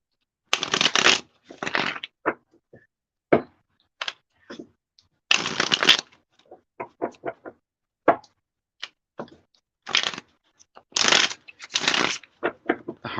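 Gilded Tarot deck being shuffled by hand, with repeated bursts of riffling and card slaps separated by short pauses and lighter single taps, close and clear with no talking.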